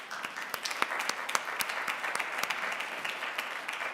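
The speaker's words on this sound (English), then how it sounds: "Let me ask you to give these wonderful scholars a round of applause." An audience claps for scholars at a university graduate talks event, a steady dense round of applause sustained across the whole stretch without voices.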